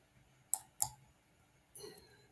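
Two crisp mouse clicks close together on a get data button, followed by a softer, broader click-like rustle, near and alone in a quiet room.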